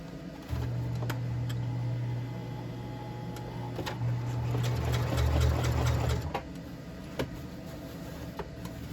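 A sewing machine stitches a square on a fabric grow bag, its motor whirring in a steady continuous run for several seconds before stopping, with a few light clicks and taps around it.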